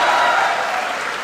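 Brief burst of dense audience applause at a Hindi kavi sammelan poetry recital at a college centenary event, loud and steady, tapering slightly at the end.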